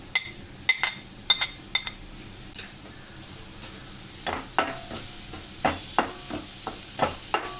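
Halved tomatoes go into a pan of frying onion and spice mix for padwal bhaji, with a few metal clinks followed by a run of sizzling bursts and stirring scrapes, close by and with no voices.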